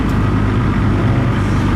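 A Ferrari supercar pootles around the paddock at Fiorano, its engine a dense, steady low drone that stays close and constant with no voices over it.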